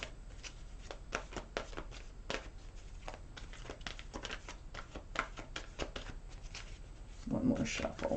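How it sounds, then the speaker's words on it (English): Tarot or oracle cards are shuffled by hand in quick, repeated riffling flicks and slaps, close and crisp, with a louder rustle near the end and occasional soft talk in the background. "One more shuffle."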